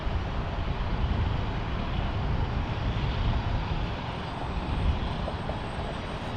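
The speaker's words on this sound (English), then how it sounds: "as we check out this A330 being pushed back" Airbus A330 being pushed back at Minneapolis–St. Paul airport, a steady broad engine and tug roar, fairly distant and continuous, with no voices over it.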